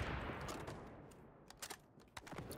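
Bursts of automatic gunfire in the online shooter XDefiant, short rapid volleys of sharp cracks clustered in the second half over a noisy game background, fairly quiet overall.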